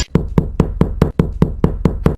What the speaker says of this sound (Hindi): इतनी तेज तेज दरवाजा कौन खटखटा रहा है?